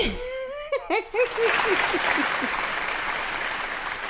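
A comedy show crowd bursts into loud, sustained clapping and cheering that swells and holds. Just before it, a performer's voice rises in a drawn-out exclamation.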